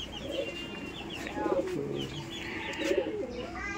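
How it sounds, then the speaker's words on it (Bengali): Young Giribaz pigeons at a pigeon farm give soft, throaty coos in a few repeated bursts, with faint chirps mixed in, fairly close over a low background hum. "দর্শক, আমরা গিরবাজ কবুতরের বাচ্চাও দেখবো।"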